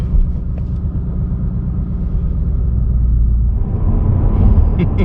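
A 2020 Mustang GT engine, warm rather than cold-started, rumbles loudly and deeply up close, its low drone swelling steadily as it builds toward the end.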